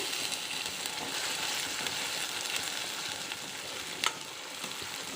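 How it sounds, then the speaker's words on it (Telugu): Tomato puree frying in hot spiced oil in a pan, a steady close hiss and crackle of sizzling that carries on evenly with one brief louder pop near the end. "ఇందులోకి టొమాటో ప్యూరీ వేసేద్దామండి"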